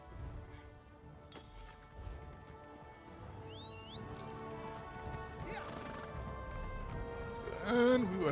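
Horse hooves clip-clop in the Elder Scrolls Online game, a faint rhythmic gallop under game music and effects, with a whinny near the end.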